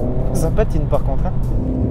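A Renault Megane 4 RS engine drones steadily under wheelspin, close and loud, while someone talks over it throughout.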